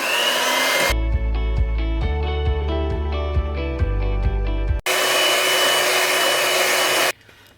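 A handheld electric mixer whips half a kilo of cream in a bowl for a no-oven Black Forest cake, a loud steady motor whine that shifts pitch midway and then cuts off, no talk.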